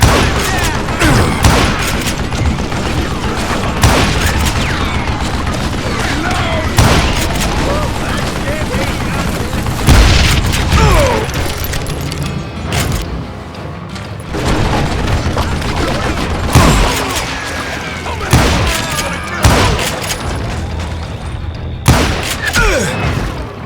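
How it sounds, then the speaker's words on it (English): A fusillade of gunfire rains down from above in the Western shooter Call of Juarez: Gunslinger, loud and sustained with repeated heavy bursts and booms throughout. "a fusillade of bullets come raining down from on high"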